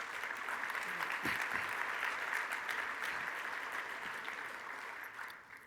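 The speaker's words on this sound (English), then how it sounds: "Please join me in giving them applause." Conference audience at the COSSBA National Conference applauding during a keynote: a broad, sustained wash of many hands clapping at moderate distance, steady for several seconds before fading out.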